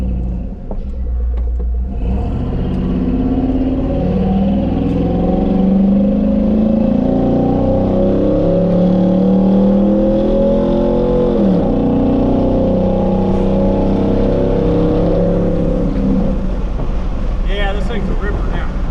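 A Chevy delivery truck with an LS swap, freshly given a transmission service, rumbles close with its engine rising and falling in pitch as it accelerates and revs, wind buffeting the microphone, with a voice talking over it.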